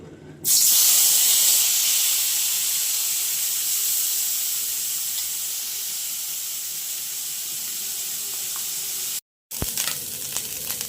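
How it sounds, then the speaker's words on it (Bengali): Small kachki fish fry in hot oil in a wok, making a loud, dense, continuous sizzle that starts abruptly and fades slightly over time, with a brief break near the end. "মাছগুলো দিয়ে দেবো হালকা ভেজে নেবো"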